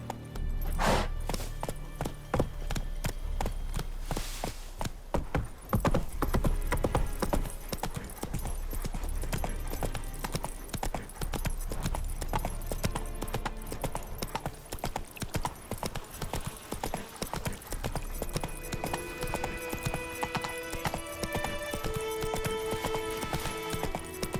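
Steady clip-clop of Roach, the horse in The Witcher 3: Wild Hunt on PS5, galloping through White Orchard, with continuous rhythmic hoofbeats over game ambience and a brief whinny near the start.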